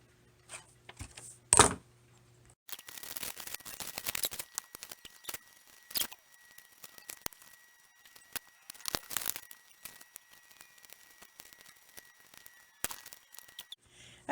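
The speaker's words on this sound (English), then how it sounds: "And I'm going to get my scissors" Sharp snipping and paper rustling come in short irregular bursts, close up, with quiet pauses between cuts.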